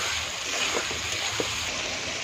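Tomato pieces going into hot oil already holding bay leaves, onion and garlic for a Bengali chicken kasha, giving a steady broadband sizzle and hiss with a few soft pops, close and continuous, no talking.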